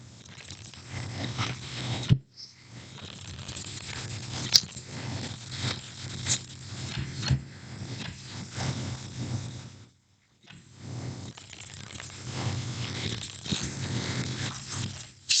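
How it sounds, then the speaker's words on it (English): A tarot deck is shuffled by hand up close in a run of soft riffling, papery rustles, with two brief pauses between bursts and no speech. "So let's give it a little bit of a shuffle."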